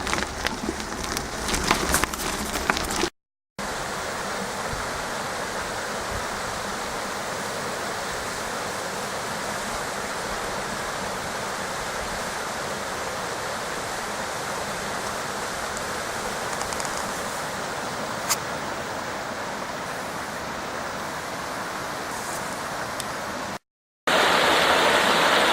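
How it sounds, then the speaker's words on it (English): Waterfall at Ujitawara pouring steadily, a dense, constant rush of falling water close by that holds at an even level for the whole stretch, with only brief cuts at the start and end. "Welcome through no Taki waterfalls"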